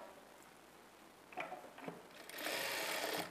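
Sewing machine stitching together cross-cut fabric strips for a blouse neckline: a few faint clicks, then about a second of steady, close whirring stitching in a quiet room.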